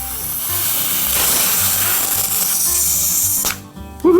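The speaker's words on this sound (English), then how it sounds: "use the Dremel tool to get rid of some of these seams" A Dremel rotary tool grinds at the seams of an Umarex Legends P.08 airgun pistol, a steady high whine with a buzzing edge held for several seconds, then cutting off abruptly.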